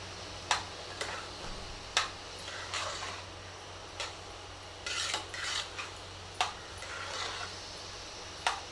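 A spoon stirring chopped ginger into curd rice in a bowl, with sharp metallic clinks and scraping taps at irregular intervals, quiet and close, over a low steady hum.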